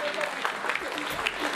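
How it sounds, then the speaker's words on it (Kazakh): Wedding guests clap together throughout, a steady patter of hands with voices and chatter mixed in underneath. "Духовой тәтемізге шапалақ ұрып қояды"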